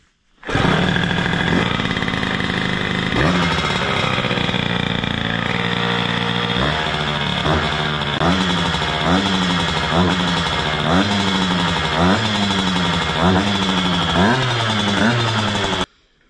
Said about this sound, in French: la moto elle démarre au premier coup de kick